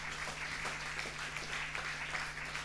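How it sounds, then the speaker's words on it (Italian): Quiet, distant applause for library staff at a literary award ceremony, a soft continuous patter of clapping over a low steady hum. "Vi chiedo veramente un forte applauso per tutti loro"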